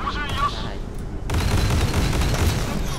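Rapid, continuous fire from an H/PJ-45B naval cannon in the video game Modern Warships, booming bursts running together loudly under a brief spoken voice.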